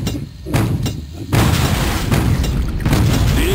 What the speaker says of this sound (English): I think we should just lob a bunch of grenades in there